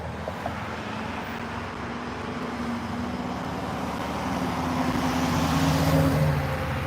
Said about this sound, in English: I'm watching traffic right now.